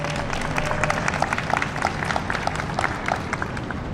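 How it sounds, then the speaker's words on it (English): A crowd at an outdoor Juneteenth flag raising ceremony in Daley Plaza, Chicago, applauds the aldermen with steady, sustained clapping spread across many hands, moderately loud and even throughout. "Can we give Alderman Yancey and Coleman another round of applause?"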